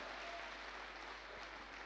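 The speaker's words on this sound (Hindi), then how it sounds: "एक जोरदार ताली गोपाल जी के लिए" Audience applause at a Hindi-language motivational speech event for a mutual fund assistant manager, steady clapping filling the whole stretch at a moderate, somewhat distant level with no talk over it.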